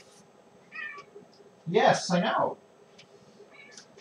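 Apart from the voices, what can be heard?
cat meowing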